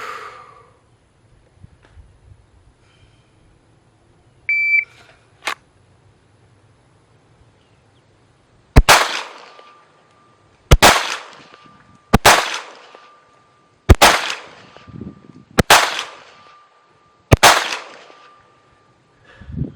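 A shot timer beeps, then a pistol fires six sharp shots in a steady cadence about a second or two apart, loud and close, during practice drawing and shooting with an improvised setup while a PMO is down.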